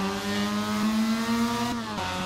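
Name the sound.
Mazda race car engine revs in Assetto Corsa video game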